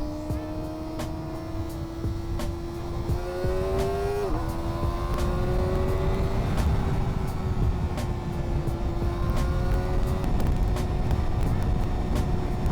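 A Kawasaki ZX4RR motorcycle ridden along a road near the Kyiv Sea, its engine a steady close drone that shifts pitch as it weaves and changes speed, with wind noise throughout and no talk.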